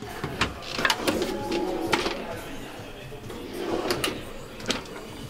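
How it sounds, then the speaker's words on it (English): A soft-closing kitchen drawer in a 2022 Carado CV 600 Edition 15 camper van slides shut with a few light clicks and rolling rumbles, heard close up alongside brief speech. "Soft closing of the drawer."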